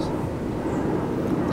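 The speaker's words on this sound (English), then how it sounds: "Airplane. Airplane, yeah." Airplane passing overhead outdoors on a mosquito-filled evening, a steady broad low rumble holding at one level throughout, with people talking nearby.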